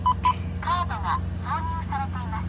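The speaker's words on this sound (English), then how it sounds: "And then that noise was the ETC card." Inside a 1997 Toyota Celsior, a Japanese ETC toll card reader gives two short electronic beeps, then a string of melodic synthesized chimes and tones play over the car's low idling rumble.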